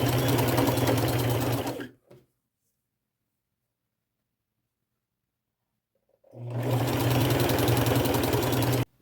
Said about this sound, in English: I'll overlap this a little bit and continue sewing